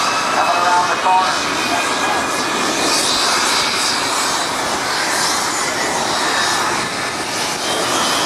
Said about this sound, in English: In the green camouflage painted jet, Geoff Hickman.